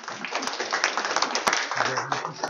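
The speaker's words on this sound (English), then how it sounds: "please give them a round of applause" A meetup audience giving a round of applause after a talk on scaling Kanban, a dense patter of many hands close by, with a voice speaking over it toward the end.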